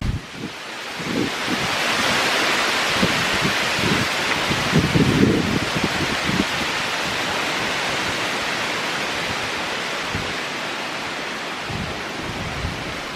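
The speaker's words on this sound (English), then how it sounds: "That wind is blowing the leaves off the trees." Steady wind gusts through trees on a forest hiking trail, shaking autumn leaves loose; a continuous broad rushing hiss with faint rustling and occasional low buffeting, no voices.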